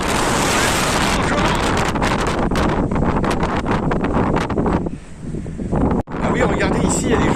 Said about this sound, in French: il doit y avoir du vent de malade